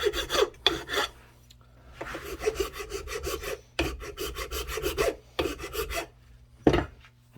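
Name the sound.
big file rasping a horn for a powder horn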